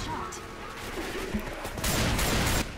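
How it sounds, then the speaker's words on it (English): Shotgun fire in a co-op zombie shooter while a Witch is hunted, a loud sustained burst of blasts in the last second over steady game noise, with players talking. "Right, I'll take out the witch, I've got a shotgun."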